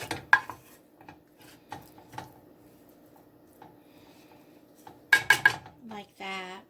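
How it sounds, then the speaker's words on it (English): Broccoli is stirred in a baking dish, with a few sharp utensil clinks against the dish near the start and a quick cluster of clinks toward the end, a voice speaking briefly afterward. "Give the broccoli a stir."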